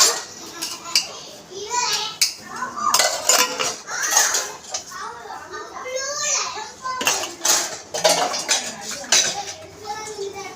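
Dishes and cutlery clatter and scrape steadily as they are washed, with children's voices chattering nearby throughout.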